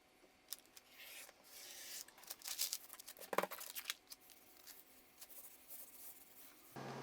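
Low-tack wide masking tape laid on leather is cut with short, faint snipping and scraping strokes, quiet and close, with no talk.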